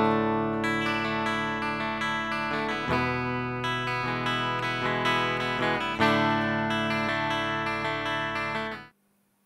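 Electric guitar played through an amplifier and captured with a Behringer DI box placed between the speaker output and the speaker: sustained distorted chords ring out, changing twice, then cut off abruptly at the end, with no voices.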